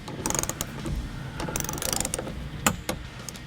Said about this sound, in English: Finally, torque each bolt to 120 inch-pounds.